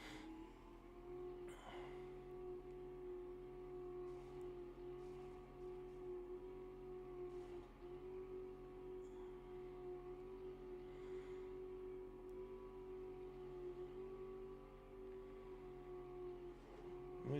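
Steady low droning hum of a truck engine in the 7 Days to Die video game, a continuous even tone that holds unchanged at a moderate, distant level with no talk.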